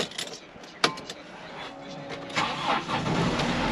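A car engine cranks and catches on a frosty morning at minus three degrees, a short cranking burst followed by the engine settling into a rough idle, heard close and moderately loud.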